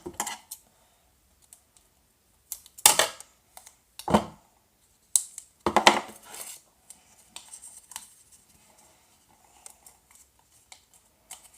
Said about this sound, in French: on va recouper 2 bouts de scotch